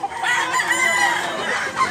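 A rooster crows loudly and close by, its drawn-out call filling the moment over a busy background of other sounds.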